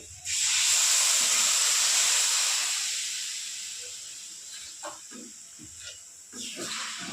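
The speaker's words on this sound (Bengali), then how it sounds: "এবার দিয়ে দেবো পরিমাণ মতো জল" Water poured into a pan of hot fried spices for an egg curry, a loud sudden sizzling hiss that slowly fades into softer bubbling with light clinks near the end.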